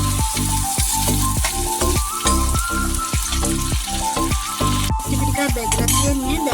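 Green chilies fry loudly in a hot pan, a dense continuous sizzle with rhythmic scraping thumps from stirring, close and steady throughout.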